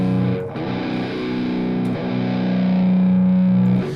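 A thick, saturated high-gain electric guitar through an Amplitube 4 amp on default settings with slightly scooped mids rings out in sustained chords, loud and steady, with a few strummed changes and a long held note at the end.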